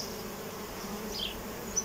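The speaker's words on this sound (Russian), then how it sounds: "Вот видно, что летная пчела возвращается" Honey bees buzz softly around a hive as a forager flies back in, a faint, steady hum with a few nearer passes standing out.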